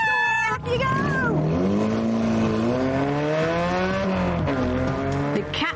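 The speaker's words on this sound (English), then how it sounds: "That really sounds like a racing car." Rear-engine racing car built from junkyard parts roars loudly and continuously, its revving pitch climbing and wavering for several seconds up close.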